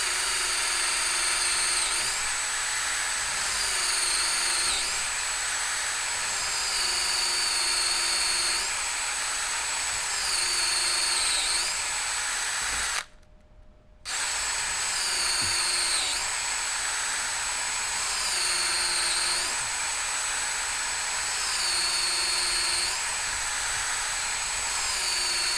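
Power drill boring freehand into a Marlin Model 30G pump-action rifle's wooden forend, a steady high-pitched whine that runs continuously with a brief stop midway before starting again, close and loud.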